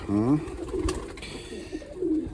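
Pigeons and young pigeon chicks cooing close by, giving a few soft, low coos over a short stretch, with small rustles between them.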